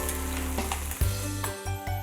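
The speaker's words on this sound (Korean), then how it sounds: "지금 이 지글지글 구워지는 소리 들리시나요?" Marinated eel sizzles on a grill at a long-established Korean restaurant, a close, steady crackle and hiss with a few brief clinks, no voices present.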